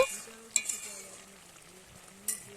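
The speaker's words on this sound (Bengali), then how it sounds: "চারধাটা একটু ভালো করে একটু নাড়িয়ে নেব" Loita (Bombay duck) fish curry frying in a pan and being stirred, with a soft steady sizzle broken by two sharp scraping clinks of the spoon against the pan.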